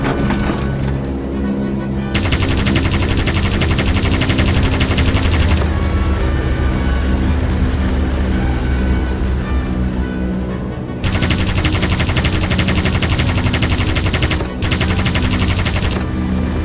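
Vickers machine gun firing in the WWI flight game Aviators, loud sustained bursts of rapid automatic fire with brief pauses, heavy rumbling and thudding underneath throughout.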